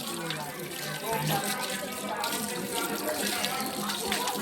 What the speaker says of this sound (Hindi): ये हम अपना पैर धोने, यहाँ पहाड़ से पानी आता है।